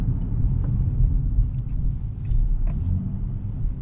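A 2024 Nissan Z with a six-speed manual rev-matches on a downshift, a deep, loud engine rumble heard from inside the car that swells briefly twice over a steady drone.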